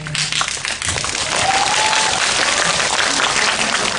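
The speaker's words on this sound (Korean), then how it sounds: "박수를 청하지 않았는데도 나오는 자동 박수" An audience at a cinema talk event with a film actor bursts into spontaneous applause, a loud, continuous crowd clapping that swells after a quieter opening and holds steady throughout.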